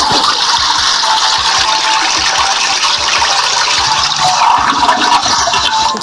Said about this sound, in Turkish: Sifonu açtık.